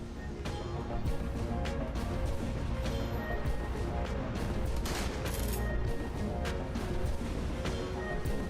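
Gunfire crackles in Shadowrun: Hong Kong, a dense run of sharp, overlapping blasts and impacts over busy combat ambience, loud and continuous for several seconds.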